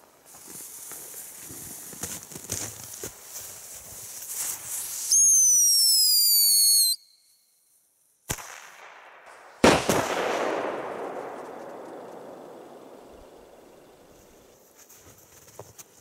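Firework rockets at an outdoor fireshow: crackling bursts, then a rising whistle as a rocket climbs, a short quiet gap and a sharp loud bang that fades into a long crackling decay, with no voices.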